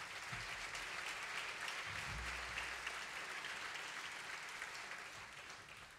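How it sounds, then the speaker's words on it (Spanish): The Jazzaldia jazz festival audience applauds after a concert set, a broad, sustained clapping that stays steady and fairly distant before tapering off slightly toward the end. "un aplauso, porfa"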